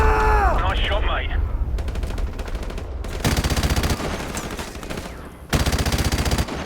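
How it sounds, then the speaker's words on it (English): Light machine gun fire in Call of Duty: Modern Warfare Remastered, loud rapid bursts of automatic shots in several volleys, mixed with other game effects. "because I have a LMG, if I see some slight movement, I just pepper it"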